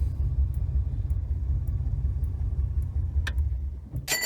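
A manual-transmission car pulls away at the clutch friction point, a close low engine rumble holding steady for a few seconds before a brief rev and some sharp clatter near the end.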